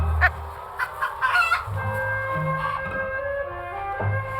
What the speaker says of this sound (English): Richard, leave the chickens alone.